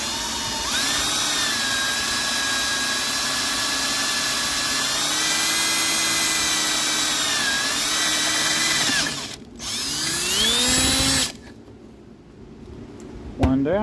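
A power drill whines loudly and steadily while drilling for temperature gauge sensors on a turbo Miata, its pitch dipping under load, then stops briefly, revs again, and cuts out.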